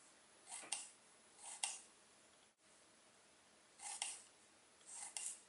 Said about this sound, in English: So first peel the ginger and we need to slice them thin.